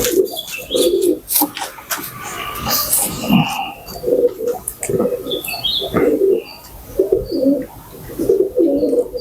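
Pigeons coo in repeated soft, throaty bursts close by, mixed with chirps and rustling in a loft, while a person talks intermittently underneath.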